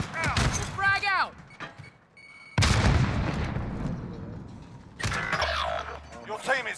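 Gunfire and a grenade blast in the Warzone video game: sharp shots, then a loud boom with a long rumbling tail, followed by more shooting and clatter, with voices talking in between.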